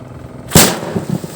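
Homemade garlic firecracker going off outdoors, a single sharp loud blast after a moment of quiet, followed by a short rumbling decay and faint voices.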